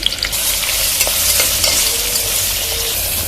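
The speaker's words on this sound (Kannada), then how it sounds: "ಈರುಳ್ಳಿನ ಆ್ಯಡ್ ಮಾಡಿಕೊಂಡು ಗ್ಲೋ ಗೋಲ್ಡನ್ ಬ್ರೌನ್ ಬರೋ ತನಕ ಚೆನ್ನಾಗಿ ಹುರ್ಕೊಳ್ಳೋಣ" Onions frying in oil in a cooker for vegetable rice, a loud continuous sizzle with bright hiss and small crackles from start to finish, no voices.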